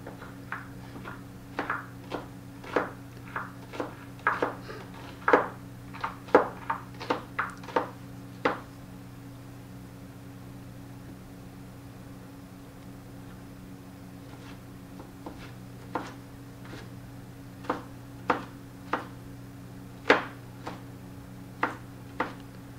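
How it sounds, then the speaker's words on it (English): Onions being chopped with a knife on a board while fermented fish is prepared, a loose series of sharp, close knocks that come in quick bursts with short pauses, and no one talking. "I'm finishing chopping up the onions"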